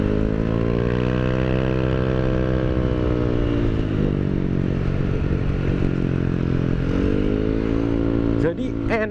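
Yamaha Aerox 155 scooter idling with a new aftermarket exhaust, a close, steady, throbbing burble that rises slightly in pitch midway and settles again, ending with a brief clatter.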